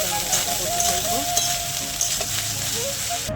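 Cooked rice and a fried egg sizzle in a pan for Bengali fried rice, a continuous close frying hiss with scraping stirring sounds and faint clinks over a steady background hum.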